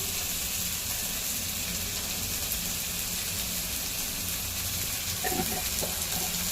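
Onion frying with salt in a pan for a Konkani-style stuffed brinjal dish, a steady broad sizzle running unbroken and fairly loud throughout, with a few faint clinks near the end.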